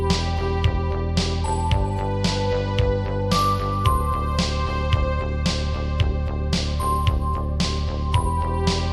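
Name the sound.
synthwave synthesizer track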